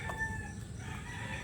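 A Tootsie Roll bloodline gamefowl rooster crows at a gamefowl seminar in Arayat, Pampanga, a single brief call at moderate distance over low background murmur.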